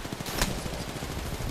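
Rapid automatic gunfire crackles in an Apex Legends ranked match, a fast string of shots with one sharper crack, heard at moderate distance.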